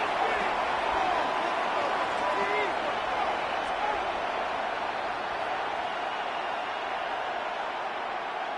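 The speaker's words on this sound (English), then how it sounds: "Not quite the same roar out of the crowd, Kate, that you're going to get with a touchdown, but still plenty of noise coming down" A stadium crowd in the Madden 26 football video game produces a steady, broad roar, and commentators talk over it throughout.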